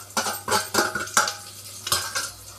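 Small onions and dried red chillies being tempered in a pan, heard as several sharp spoon-scrape and clatter bursts against the cookware over a faint background sizzle, with no talking.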